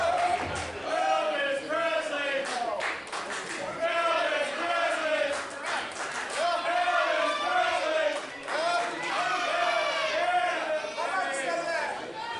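A wrestling crowd chants in a steady rhythmic cadence, with repeated swelling phrases filling the arena, and a commentator's voice runs over it at times.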